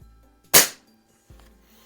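A single sharp shot from a Crosman model 100 air rifle, a post-war gun from around 1949, cracks out loud and close, followed by a fainter mechanical click about a second later.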